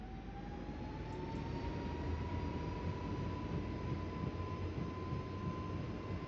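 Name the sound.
airliner takeoff roll on runway 17 left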